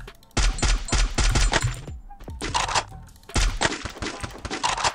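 Loud bursts of rapid automatic gunfire in the Free Fire battle royale game, several volleys in close succession with brief pauses between them, with no talk.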